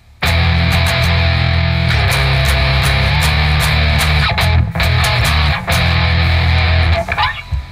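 An electric guitar plays a short fanfare-style riff in an 8-bit manner, with bright, sustained, slightly distorted notes and a few rhythmic stabs, loud and alone, ending with a brief fade.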